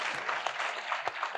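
Audience applause at a conference on international vocational training, a fairly faint, even patter of clapping from a modest crowd with a few sharper claps standing out.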